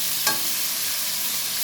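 Onion half-fried in a pan with potatoes and bay leaf, a steady close hiss of frying with one quick scrape of stirring near the start.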